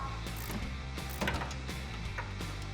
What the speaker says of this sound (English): you can grab a 15mm ratcheting wrench and tighten down that nut up top